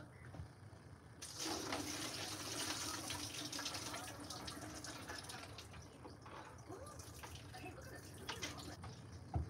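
Tap water runs steadily into a sink while mung beans are rinsed, a continuous close splashing flow starting after a second and lasting to the end.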